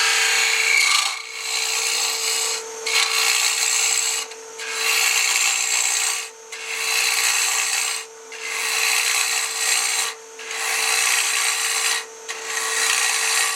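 A 3/8 bowl gouge cuts wood mounted on a faceplate on a lathe, producing a loud, close scraping hiss in long repeated passes separated by short pauses, over the steady hum of the lathe motor.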